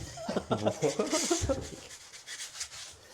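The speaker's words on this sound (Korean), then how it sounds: "사포로 하면 되겠네." Sandpaper scraping hardened tile grout in short rubbing strokes, heard under someone talking at first and then alone as a soft repeated scratching.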